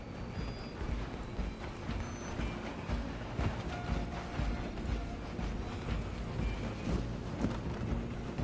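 Train in the Red Dead Redemption 2 video game, a continuous rumbling clatter of wheels on rails with steady rhythmic clicks running throughout, loud and close with no voices.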